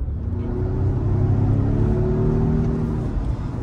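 Inside a 455hp Volvo XC60 Polestar hybrid on Öhlins suspension being driven briskly, a low engine rumble swells slightly and eases off again, steady and close with road noise beneath.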